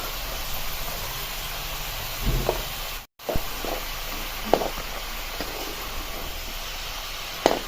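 Pumpkin stirred into hot spice tempering in a pan for a Marathi dal-pumpkin vegetable dish: a steady hiss of sizzling, with occasional knocks and scrapes of the spoon against the pan, briefly cut by a short gap.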